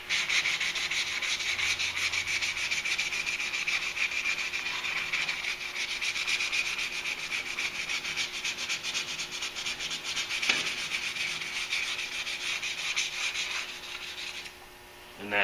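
Dent filler being sanded on a car panel during panel beating work on a Duramax project, a steady continuous rasping scrape close by that runs without a break for about fifteen seconds, then eases off briefly near the end.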